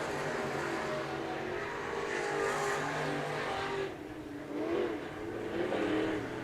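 Sport modified race cars roar around a speedway oval coming off turn 4, a loud continuous engine drone with revving that swells and dips as the cars pass.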